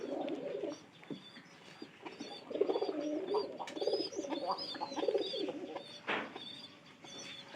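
Pigeons coo in a loft, soft and near, with repeated low throaty calls that overlap in a continuous murmur and a few lighter chirps above.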